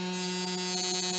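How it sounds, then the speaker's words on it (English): A Mandrill CNC router's spindle runs at steady speed, a constant close electric whine with strong even harmonics and no variation or talk across the short stretch. "So now we're going to turn the spindle on and then get to going."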